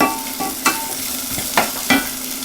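Jalapenos sautéing in a pan in a home kitchen, a loud close sizzle broken by several sharp clacks and scrapes of stirring.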